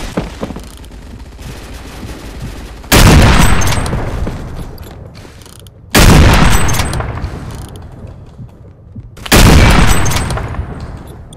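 FAL PARA gunfire in the Phantom Forces video game comes as three loud, sharp bursts evenly spaced a few seconds apart, each ringing out and fading into a quieter background of game noise.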